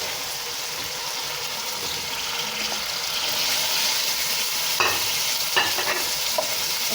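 Tomatoes and green chillies stir-fry in garlic-ginger masala for matar pulao, a close, steady sizzle that grows slightly louder, with a few sharp scrapes of a spoon toward the end.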